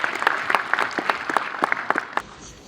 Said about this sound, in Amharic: ለራሳችሁ አንድ ጊዜ ከፍ ያለ ጭብጨባ